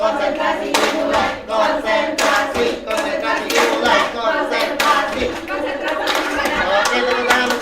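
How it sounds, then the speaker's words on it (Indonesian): A group claps hands together during a school positive-culture activity, producing dense, loud, continuous clapping with overlapping chatter and voices throughout. "tepuk tangan untuk kita semua"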